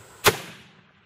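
A single sharp crack of a .308 rifle fired outdoors, loud and close, followed by a short decaying echo and no voices.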